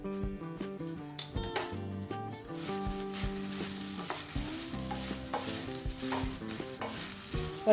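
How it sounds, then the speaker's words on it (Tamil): Okra (ladies finger) fries in a spoonful of oil in a kadai, a soft steady sizzle broken by scraping stirs, with gentle background music underneath. "வாணலில் 1 ஸ்பூன் எண்ணெய் காய வச்சு ஃபஸ்ட்டு வெண்டைக்காய் போட்டு வறுத்து எடுத்துருங்க."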